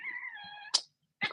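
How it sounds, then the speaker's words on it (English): A pet cat gives a drawn-out, wavering meow, then two short chirping calls, close and clear in a quiet room. "that's my cat and her little noises"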